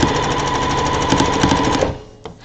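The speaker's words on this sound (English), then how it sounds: "And sew those together." A sewing machine stitches quilt strips together for a partial-seam block, running loud and steady with a rapid mechanical chatter for about two seconds before stopping, followed by a brief faint clunk.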